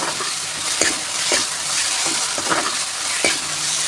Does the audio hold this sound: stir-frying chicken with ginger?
yes